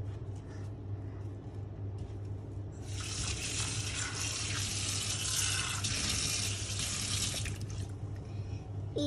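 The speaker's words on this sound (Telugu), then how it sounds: "ఓకే, ఇంకా వాష్ చేయి." Bowls are rinsed under a running tap. A steady splash of water starts partway through, runs loud for several seconds and then cuts off, over a low background hum.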